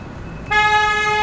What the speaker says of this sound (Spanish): Le meten un bocinazo si no avanzas rápido